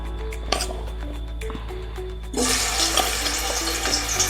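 Pieces of suran (elephant foot yam) frying in hot oil for a bhaji, a close, continuous sizzle that swells into a louder, denser crackle about halfway through.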